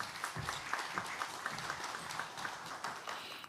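Audience applause welcoming a chairperson to the podium at a national safety technology public forum, steady dense clapping from a seated crowd at moderate distance, continuous throughout.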